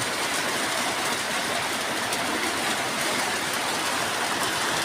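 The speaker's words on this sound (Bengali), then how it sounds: "আর বৃষ্টি পড়ছে, ধাম করে বৃষ্টি পড়ছে।" Heavy rain pours down outdoors in a dense, constant hiss that holds steady throughout with no break.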